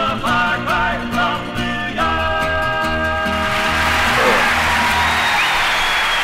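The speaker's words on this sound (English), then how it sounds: "They're doing the applause." A studio audience applauds at a live news talk show. A brief musical sting opens, then a steady wash of clapping builds and holds to the end.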